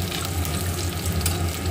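Raw banana curry bubbles and hisses steadily in a pan after cold water is added, a close continuous sizzle with no talking.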